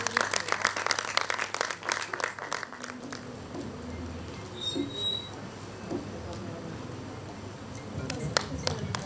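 Audience clapping at a book release ceremony, a burst of scattered applause at the start that fades, then returns briefly near the end, with voices talking in the room.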